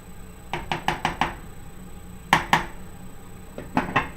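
Long grain white rice being stirred in a pot: a quick run of five or so hard scraping knocks of a utensil against the pot, a pause, two sharp louder hits, then a few more taps.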